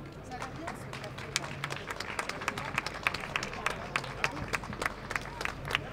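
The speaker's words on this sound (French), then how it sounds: "Merci, on les applaudit." An audience at a climate-citizens' water event in Brussels gives scattered, sharp claps at a steady patter that thickens slightly midway, with murmuring voices underneath.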